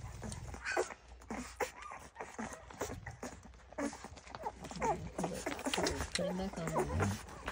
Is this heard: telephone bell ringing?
no